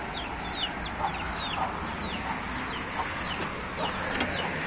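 Hens cluck and chirp softly in short bursts over a steady outdoor farmyard hum, with no voices.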